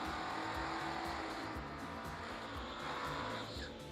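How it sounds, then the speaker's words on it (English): Cars do burnouts at a drag racing event, producing a loud, continuous roar of engines and spinning tires that fills the air without a break, heard from a distance across the strip. "Burnouts always getting in the way of my announcing."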